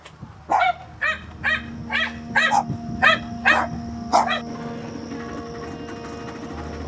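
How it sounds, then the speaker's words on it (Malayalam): Puppies at a Kerala farmhouse give a run of about eight short, high yappy barks in fairly even rhythm, close and clear, then fall quiet over a low steady hum and faint insect chirps. "പട്ടി കുട്ടികള്."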